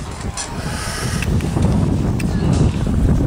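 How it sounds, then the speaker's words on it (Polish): Steady wind near a marina rumbling and buffeting against the microphone, a continuous low roar with gusty broadband noise throughout, near and fairly loud. "a tutaj wiatr pięknie wieje"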